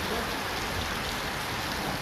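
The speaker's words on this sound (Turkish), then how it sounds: "Ağrı'nın Patlos ilçesinde ise dolu yağış etkili oldu." Heavy rain and hail pour down steadily in Patlos, Ağrı, a dense, constant hiss of drops striking surfaces at close range, with no voices.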